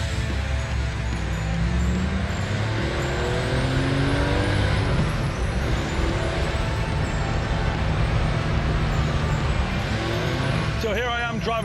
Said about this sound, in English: So here I am driving Carl's 74 911 Carrera on these awesome North Georgia mountain roads.